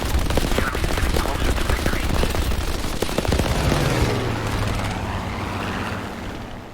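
Heavy .50 caliber machine guns on a P-51 Mustang fighter in War Thunder fire in dense, rapid bursts for several seconds under a droning aircraft engine, then the firing stops and the engine hum carries on alone.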